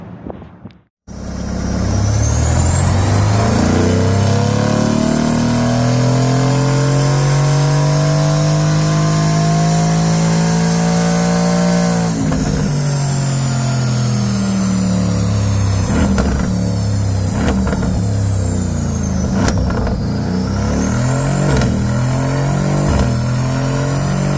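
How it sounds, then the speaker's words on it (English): A straight-piped car exhaust revving hard and close, a loud sustained roar with sweeping rises and falls in pitch and a brief throttle dip midway, with no talk. "Greatly improved exhaust note."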